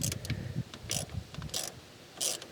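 Ratcheting wrench clicks in quick bursts as a leaking fuel line fitting is tightened on a junkyard 1966 Ford Mustang V8, close and fairly loud, with repeated short spells of turning separated by brief pauses.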